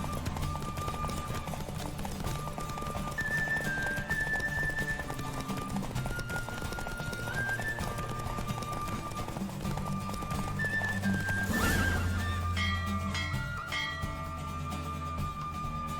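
Hooves clip-clop rapidly as a horse gallops in the video game The Witcher 3: Wild Hunt, over a bed of game music, with a brief whoosh partway through.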